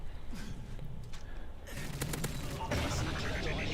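M4A1 rifle fire in a video game, rapid bursts of crackling shots at moderate distance, building into denser fire toward the end, mixed with other battlefield noise.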